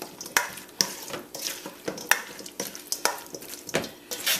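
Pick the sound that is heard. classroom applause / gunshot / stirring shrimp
stirring shrimp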